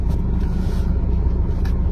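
2016 Suzuki Ertiga diesel engine idling with start-stop system, a steady loud low rumble with a constant even throb, no voices.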